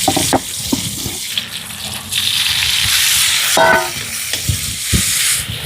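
Chopped garlic and chili frying in a hot pan give a steady loud sizzle and hiss, broken by scraping stirs and clinks of a utensil, with no voices.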